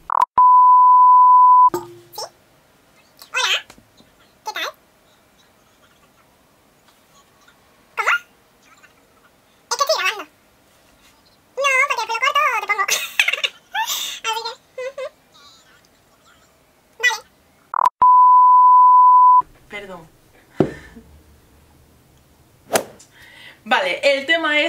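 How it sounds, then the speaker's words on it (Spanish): A steady electronic ringing tone sounds twice, several seconds long each time, with scattered clicks and bits of voice in between. "Espera, que me están llamando por teléfono."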